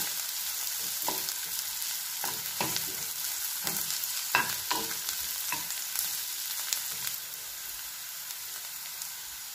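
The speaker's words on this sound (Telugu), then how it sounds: "కొంచెం కరివేపాకు వేసి బాగా మిక్స్ చేయాలి." Curry leaves crackle and sizzle in hot oil while being mixed in a pan for an Andhra-style prawn fry, with a continuous fry hiss broken by repeated spoon scrapes and pops, close and alone.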